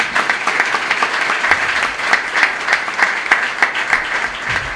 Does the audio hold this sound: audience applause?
yes